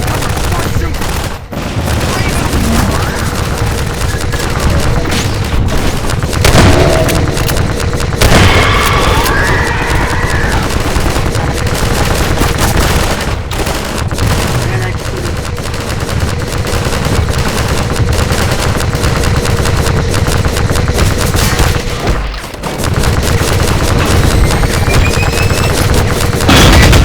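Sustained gunfire rattles through a Half-Life 2: Episode Two battle, with loud machine-gun bursts, booms and sharp pops layered continuously for the full length, and a voice faintly heard among the combat.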